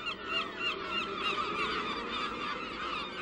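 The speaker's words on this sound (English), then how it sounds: "the bird cries" Geese honk repeatedly in the Greenland wilderness, overlapping loud calls from a flock close by with no talking.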